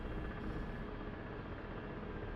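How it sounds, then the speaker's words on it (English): Small helicopter passing overhead, a steady, fairly faint droning rotor and engine hum that holds evenly with no talk. "It's a helicopter by the sounds of it"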